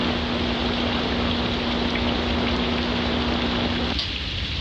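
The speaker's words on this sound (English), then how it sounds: "Tony, you can hear the rain going on over here" Steady rain falling, a dense even hiss that fills the whole stretch, with a faint constant tone running under it until near the end.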